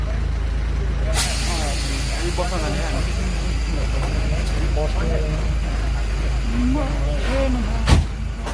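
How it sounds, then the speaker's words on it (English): An airport shuttle bus rolls across the apron toward a plane at Tribhuvan International Airport, with a steady engine drone, faint chirping tones and a sharp air-brake hiss near the end, while people talk over it. "बस is moving heading to the plane"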